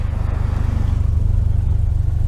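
Road traffic passing outdoors near a 1973 VW Super Beetle, a loud low engine rumble with a rhythmic throb and a steady, close drone throughout.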